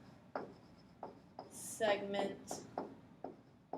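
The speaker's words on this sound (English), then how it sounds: "Let me write this down" Pen or marker writing math notes by hand on paper or a board, a series of short scratchy strokes in bursts alongside speech.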